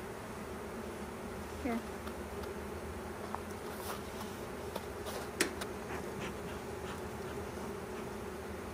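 Honey bees from a package, shipped up from California almond fields, swarm and buzz continuously at close range while being hived at an Alaska apiary, with a few short buzzes of individual bees passing near and a brief spoken word.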